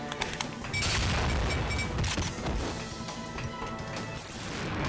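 A grenade goes off in the video game 007 Nightfire: a loud crashing blast with rattling debris. Sharp gunfire-like cracks come before and after it, and no one speaks.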